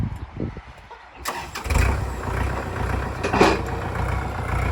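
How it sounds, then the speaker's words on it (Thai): A Kubota L5018 tractor's diesel engine cranks and starts, then runs with a steady rumbling idle and a brief rev, close by with no talking. "เดี๋ยวเรามาฟังเสียงเครื่องกันเลยนะคะ"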